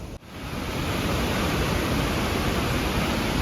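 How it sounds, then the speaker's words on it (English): Energetic glacial mountain river carrying silt in Yoho, rushing as a loud, steady broadband roar close by, with no voices over the constant churn. "Oh, this river certainly becomes energetic."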